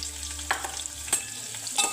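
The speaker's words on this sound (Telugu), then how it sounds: "ఒక 1 మినిట్ వేగాక అందులోకి ఈ ఆనియన్ వేసేసుకోవాలి." Onion frying and being stirred in a hot pan on a home stove, with soft sizzling and a few sharp scraping stir strokes close by and no voices.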